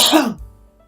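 A single short, rough cough close to the mic, a raspy burst that quickly fades into quiet.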